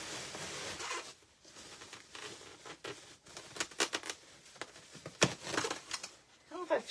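Tape being pulled and torn to wrap bubble wrap while packing a shipment, giving a run of short crackly rips and crinkles in irregular bursts, fairly close.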